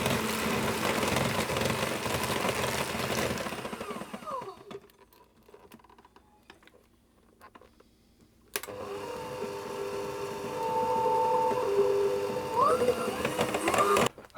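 An electric whisk beats a Guinness cake mixture, a steady loud motor whir that stops for several seconds, then starts again and runs on, with occasional pitch shifts as speed changes.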